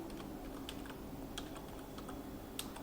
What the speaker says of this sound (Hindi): मैं यहाँ पर किसी भी वेबसाइट का URL टाइप करूँगी।